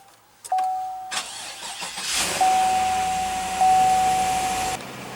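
A 2016 GMC Yukon's 5.3-liter V8 cranks and catches, then settles into a steady, deep rumbling idle with a faint whine, close and loud.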